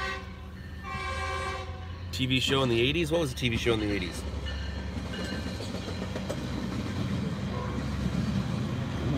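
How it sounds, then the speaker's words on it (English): A packed double-decker Metrolink commuter train passes close by at 5 a.m., a steady loud rumble of railcars filling the whole stretch while people talk over it. "ooh, here comes a train."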